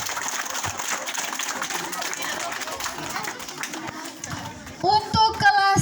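Children applauding for classes one and two at a school gathering, a dense wash of many small hands clapping steadily with crowd chatter, then livelier voices near the end.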